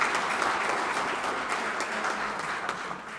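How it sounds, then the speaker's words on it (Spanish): Applause from an audience at a journalism archive event in a university faculty: a steady, moderately loud wash of clapping lasting a few seconds with no voices over it. "Así que un aplauso para ella,"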